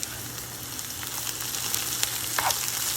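Okra fries in a pan with cayenne pepper and coriander powder stirred in, a continuous close sizzle with light scraping and clicks of stirring.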